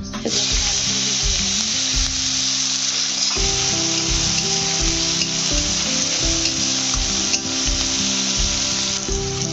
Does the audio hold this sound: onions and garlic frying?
yes